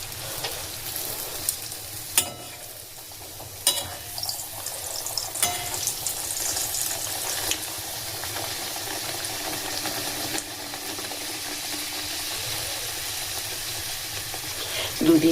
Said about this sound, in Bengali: তো এই 4 পিস আজকে আমি ভেজে নেব।